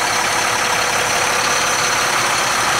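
A MaxxForce diesel in a 2011 IC school bus idles with the hood open, a steady, loud, even drone holding without change from start to finish.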